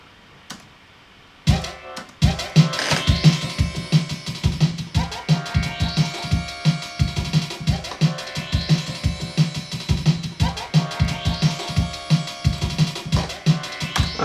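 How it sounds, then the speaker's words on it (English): Synth sounds ride over a busy drum and bass beat with fast, punchy drums and sweeping, bright synth textures. After a short quiet lead-in, the mix plays loud and close, with no talking. "that's just some mad synth sounds I came up with"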